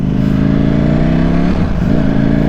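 Ducati V4 Streetfighter motorcycle engine pulling hard under acceleration, a loud, close, continuous growl that dips briefly as the rider shifts gear, then climbs again, with no voices.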